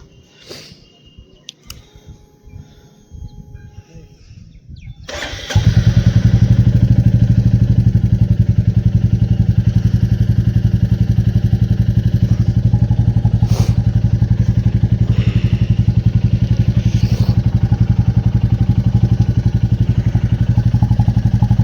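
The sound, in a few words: Royal Enfield Bullet motorcycle engine starting and idling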